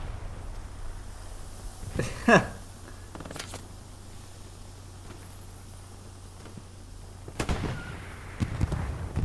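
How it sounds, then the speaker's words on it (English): Two grenade explosions in Hell Let Loose, a World War II shooter, each a sharp, booming burst, the first near two seconds and the second near seven and a half, with fainter battle noise and voices in between. "Oh, they're both throwing grenades."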